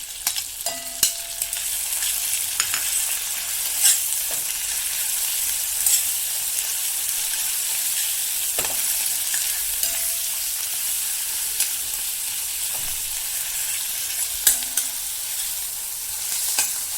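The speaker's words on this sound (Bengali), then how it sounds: "একটুখানি ভেজে নিচ্ছি।" Ground onion with garlic and ginger paste fries in a pan for a spicy crab curry, a steady bright hiss with occasional scrape and knock of a spoon stirring, close and without voices.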